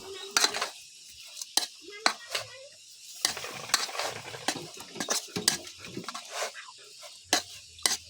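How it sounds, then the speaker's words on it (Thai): A metal utensil scrapes and clinks against a bowl while dried chili and chili powder are stirred and mixed by hand, giving irregular close taps and scrapes over quiet gaps. "กับพริกแห้งพริกผง ไปเดี๋ยวเราผสมเลย"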